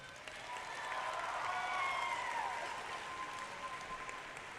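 High school graduation crowd applauding in a broad, even roar of many hands, steady and sustained for several seconds, with faint voices and cheers blended into the wash.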